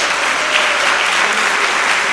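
A church congregation bursts into loud, dense applause that holds steady throughout, close and full, with no voices standing out.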